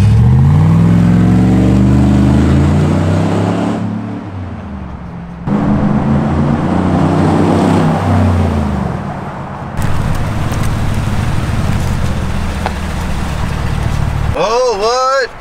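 A lifted Chevrolet Silverado pickup fitted with traction bars launches with traction control off, its engine roaring loud and close, then easing and rising again in repeated revving surges as people talk and exclaim over it.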